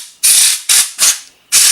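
Compressed air from a can is sprayed into a PC processor fan and heatsink in four short, loud hissing bursts separated by brief pauses, close to the microphone.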